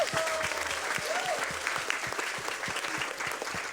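Sustained applause from an audience at a youth gathering, dense and steady clapping filling the room, with faint voices mixed in.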